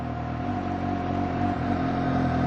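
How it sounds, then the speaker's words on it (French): A Suzuki GSX-S750 motorcycle engine idles steadily at low revs, a close, continuous throbbing hum with no change in pitch and no voices. "Écoute le régime moteur, je touche à rien."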